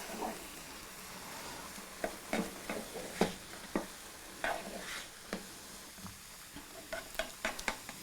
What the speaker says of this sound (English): Go ahead and stir this in.